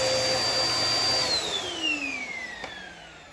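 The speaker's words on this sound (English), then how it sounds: "So the vacuum still works." A vacuum cleaner with a broken belt, its brush roll stopped but suction still pulling, runs with a loud steady rushing drone and a high whine that slides downward in pitch, as if the motor is winding down.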